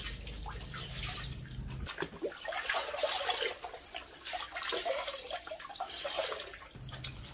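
Tie-dyed fabric being rinsed by hand in a basin of water, with close sloshing, splashing and dripping that rises and falls in bursts, and a low hum in the background.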